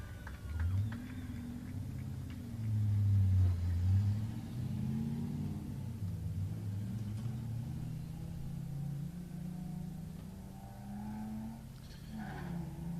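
A drift car engine drones and revs steadily at a drift shootout, a low rumbling tone rising and falling through the clip, loud and continuous with a brief higher whine near the end.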